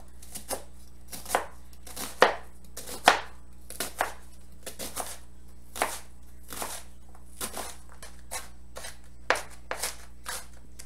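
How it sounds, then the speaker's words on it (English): A knife dicing an onion very finely on a cutting board, giving sharp, crisp chops in an uneven rhythm of about two dozen strikes, some louder than others, close up and with no voices. "So I'm going to dice this onion very, very fine"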